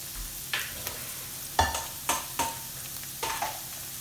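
Onions fry in a pan with a soft, continuous sizzle, broken by several sharp scraping stirs of a utensil at irregular intervals.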